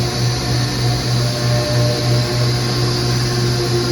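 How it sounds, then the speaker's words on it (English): A CNC end mill cuts the tooth forms of an Imperial 44-tooth motorcycle sprocket at Profile Racing, producing a loud, steady machining whir with a constant tonal hum and no pauses. "Another end mill will come around, cut the tooth form itself."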